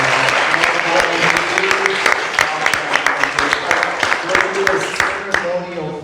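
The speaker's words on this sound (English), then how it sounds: "All right, let's give a round of applause for Kristen." An audience at a Wisconsin Assembly District 13 Democratic primary forum gives a sustained round of applause, dense, close and loud, with a few sharper individual claps standing out before it tapers off at the end.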